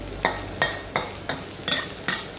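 Garlic fries in oil in a pan while a utensil stirs it, six or so sharp scraping strokes landing at a quick, even rhythm over a soft sizzle.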